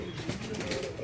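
Pigeons coo softly in a loft over a low, steady background hum, a brief, murmuring throaty call close by with no talk.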